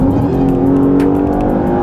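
A Lexus RX 350 F Sport or Cadillac SRX engine drones loudly and steadily from inside the cabin while driving, a sustained close hum with faint intermittent ticks.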